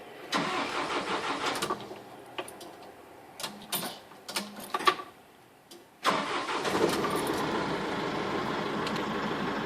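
Starter cranking and scattered clunks and rattles, then a 2012 Isuzu Reach delivery van engine catches at around six seconds and settles into a steady, fairly quiet idle.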